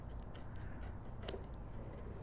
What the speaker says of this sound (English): I'm gonna just do it with my fine tip scissors